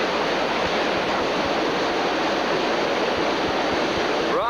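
Loud, steady rush of river rapids during a 1993 Boy Scout rafting trip in North Carolina, a continuous broadband roar of churning whitewater near the raft with no pause, filling the whole clip.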